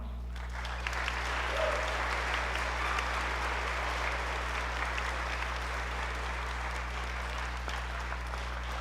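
Sustained applause from a concert audience honoring All-State choir students at a spring choral concert, steady and even for several seconds over a low electrical hum, with no voices.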